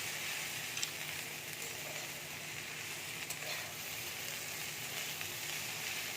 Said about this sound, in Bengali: বড়ি আমি দিয়ে দিয়েছি, এবার একটু ভেজে নেবো